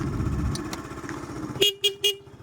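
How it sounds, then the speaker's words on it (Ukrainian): A Yamaha Cygnus X-125 scooter sounds its horn in three short beeps, one sustained then two quick ones. Each stands out clearly after a low engine idle fades. "бібіка також"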